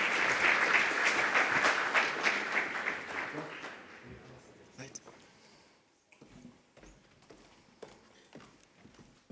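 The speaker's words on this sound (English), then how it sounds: "so please give them another round of applause." Audience applause at a public-private forum in Namibia for UNDP representatives, loud clapping for about four seconds that fades to scattered claps, then a voice starts talking.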